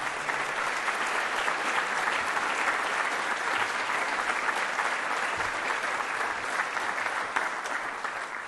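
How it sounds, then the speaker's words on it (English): Sustained audience applause for the Marine Corps Association at a combat development dinner, an unbroken, even roar of many hands clapping in a large room, with no speech over it. "A round of applause, please, for the Marine Corps Association."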